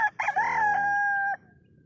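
A single rooster crows nearby, one loud drawn-out call lasting about a second against a quiet background.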